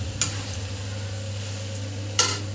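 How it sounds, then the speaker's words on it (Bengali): Fried chicken gizzard and liver stirred in a pan for pulao, a steady background hum with two clear scrapes of the spoon against the pan. "ভেজে রাখা কচকচি আর মেটেগুলো দিয়ে দিলে, দিয়ে আর একটু এরকম করে নেড়ে নেবো"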